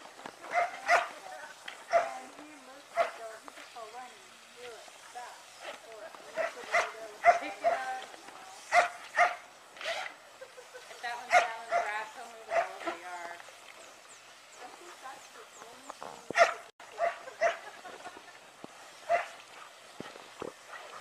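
Samoyed dogs bark and yip in short, irregular bursts across the whole stretch, fairly close and moderately loud, with some voice-like vocal noises mixed in.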